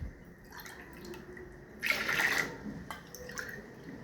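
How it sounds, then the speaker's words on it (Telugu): Chana dal lentils being rinsed by hand in water for palak pappu, a soft wet swishing with a brief louder splashy burst midway, close and alone. "ఈ పప్పును కొంచెం కడుక్కొని వస్తానండి."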